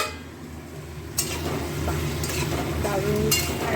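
Eggplant and onion frying together in a pan, a steady close sizzle broken by stirring and the light clink of a utensil against the pan.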